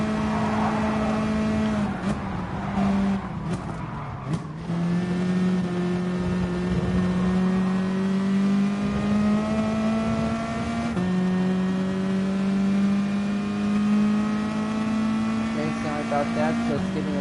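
A race car engine in Gran Turismo Sport drones loud and steady throughout, its pitch dipping around the gear change near the start and then climbing slowly again under acceleration, with a brief rough patch of shifting and scraping early on.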